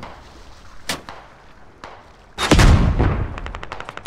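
Gunfire in a kart racing video game, with a few sharp shots early, then a loud burst followed by a rapid series of evenly spaced shots, close and alone without talk.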